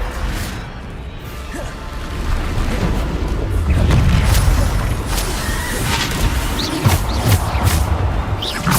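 Magical spell impacts from the Hogwarts Legacy video game, a Descendo slam among them, with dense, continuous crashing booms and whooshes that swell to a loud, sustained roar and keep pounding through the whole stretch.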